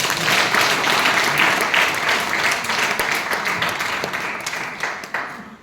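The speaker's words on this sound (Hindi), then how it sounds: "एक बार ताली होना चाहिए।" Loud, sustained applause from an audience at a business guest session in Ranchi, dense clapping running throughout and tapering slightly toward the end, with no talk over it.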